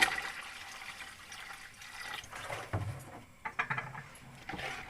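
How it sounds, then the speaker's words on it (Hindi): Water is poured into a cooking pot of beef trotters with spiced masala, a close splashing, gurgling pour that comes in uneven bursts. "4 गिलास मैं पानी के शामिल कर लूंगी"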